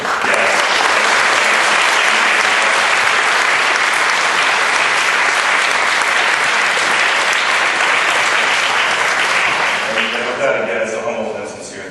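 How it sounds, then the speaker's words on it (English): A town hall audience in Charlottesville breaks into a long, loud, sustained round of applause that fills the room for about ten seconds before fading as a voice speaks. "And so I'd ask for a bipartisan round of applause."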